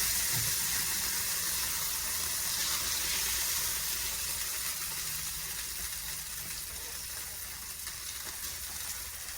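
Deer steaks browning in Crisco in a skillet, giving a steady, close sizzle and crackle of frying fat that fades slightly over time, with no talking.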